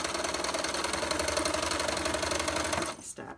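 Sewing machine stitching quilt strips, a fast continuous mechanical whir close up that runs steadily, then stops abruptly near the end.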